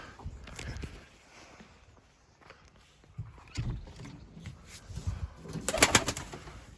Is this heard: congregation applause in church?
no